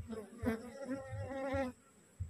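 A wild honey bee colony gathered around its queen outdoors, giving a steady close insect buzz with wavering pitch for most of the moment before it drops away near the end.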